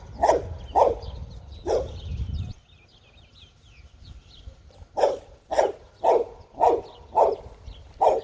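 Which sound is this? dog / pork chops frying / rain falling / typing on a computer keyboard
dog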